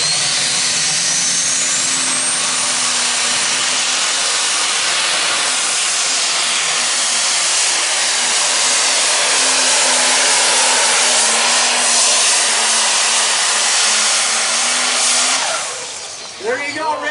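A pro stock diesel pulling tractor roars continuously at a pulling competition, a loud, sustained, hissing engine wail that holds for the whole pass with slight pitch shifts and fades at the end.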